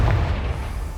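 A Confringo fire spell bursts in Hogwarts Legacy with a loud, close, booming explosion whose heavy low rumble fills the short moment alone.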